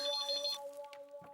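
A telephone ringtone plays in a domestic setting, a steady electronic melody with sustained tones that sounds clearly, then fades in the last half-second as a brief noise enters.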